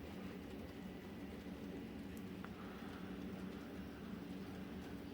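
Model train rolling onto a twelve-foot container yard on a Salt Lake route layout, a steady low rumble and rattle of wheels over track that runs without pause throughout.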